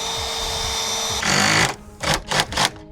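A power driver runs a fixing through a slate roof into a rafter for a solar panel mount, a steady whir that rises sharply, then stops and gives a few short bursts close by.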